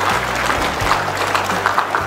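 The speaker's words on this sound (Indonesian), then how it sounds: "Mari kita berikan aplaus yang meriah" Audience applause at an inauguration ceremony for an association's board, a steady, dense wash of clapping hands sustained throughout at moderate loudness, with a low hum underneath.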